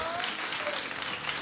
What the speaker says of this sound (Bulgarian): бурни аплодисменти за водещия на спектакъла